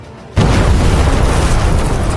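A sudden loud explosion bursts in as lightning strikes an arena, a booming, sustained roar that stays dense and heavy after the hit.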